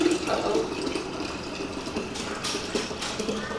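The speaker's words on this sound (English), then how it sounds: "pour in the apple juice with the cucumber through the strainer" Apple and cucumber juice pours through a strainer, a continuous close splashing trickle of liquid with no pauses.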